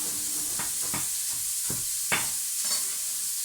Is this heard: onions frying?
yes